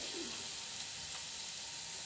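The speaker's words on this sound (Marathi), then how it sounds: "तेलामध्ये मी मिरची जी बारीक करून घेतली होती ती परतून घेणार आहे." Finely chopped green chilies fry in hot oil in a kadhai, giving a steady, soft, hissing sizzle throughout with faint stirring touches.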